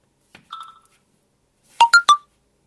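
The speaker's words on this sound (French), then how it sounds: "ça c'est une notification." A Bluboo Edge smartphone running Android 6.0 plays its notification alert: a faint short tone pattern first, then three bright, quick rising chimes, close and clear in an otherwise quiet room.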